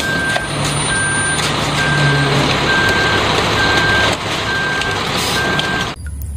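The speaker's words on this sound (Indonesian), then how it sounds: "ternyata ini truk molin" A toy concrete mixer truck gives a steady series of evenly spaced electronic reversing beeps over a constant mechanical whir, loud and close, stopping abruptly near the end.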